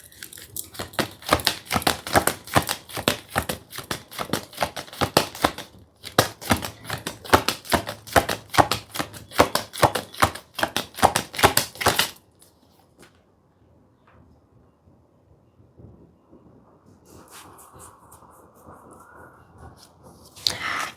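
Tarot cards being shuffled and drawn: long rapid runs of crisp riffling shuffle clicks close up, a short pause, then near silence with faint card handling and a light slide near the end.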